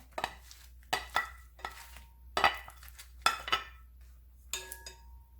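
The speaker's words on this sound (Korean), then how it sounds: "골고루 잘 버무려 주세요" Shishito peppers and chopped scallions being tossed and mixed into a seasoning sauce in a bowl, a series of separate close scraping, clinking strokes with short pauses between them.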